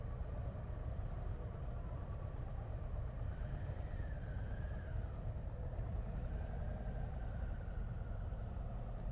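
Harley-Davidson Street Glide 2024 motorcycle pulling away, its engine a steady low rumble that holds throughout, close and even, with no talking.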